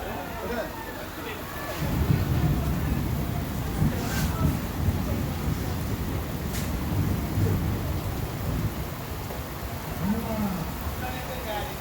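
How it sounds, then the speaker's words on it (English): Heavy rain pours steadily during a thunderstorm in Brazil, with distant thunder rolling in low rumbles and a couple of sharper cracks, the downpour loud and constant across the whole stretch. "I like thunderstorms"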